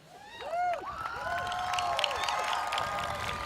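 A large crowd at an outdoor rally for public education and Oklahoma's children cheers steadily, with rising and falling whoops and shouts over a continuous roar.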